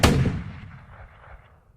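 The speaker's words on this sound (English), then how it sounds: "Gunshots broke the quiet night, leaving the family and their community in shock." Gunshots ring out on a quiet night in a true crime account, a loud sharp blast up front with booming echo and scattered follow-up reports that trail off and fade over under two seconds.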